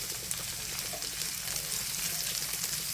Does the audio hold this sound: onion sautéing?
yes